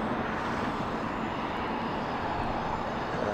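Steady, loud broadband roar of an Embraer jet aircraft on approach to London City Airport, a continuous engine rumble and rush that holds level throughout with no talk.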